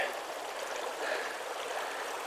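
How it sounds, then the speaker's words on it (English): Steady rushing of a creek's running water below a trail in a wilderness area, a continuous even wash with no breaks, moderately near and alone without any voices. "I hear running water down there"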